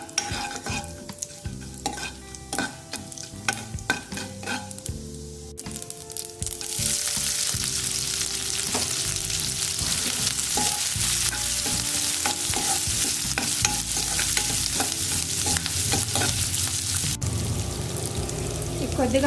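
Mustard seeds, cumin and urad dal sizzle in hot oil in a pan, a soft rattling stir at first, then a loud steady frying hiss that fills the rest.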